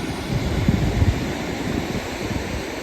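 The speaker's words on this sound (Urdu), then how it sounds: "سمندر کی لہروں کی آواز سنیں آپ" Ocean waves crash at Manora beach on Manora Island, a steady, loud roar of surf with a few heavier surges and no voices.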